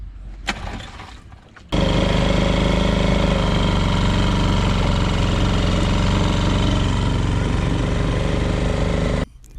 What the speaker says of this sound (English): After taking her for a spin, we noticed the motor was hunting for fuel, speeding up and slowing down at the same throttle position.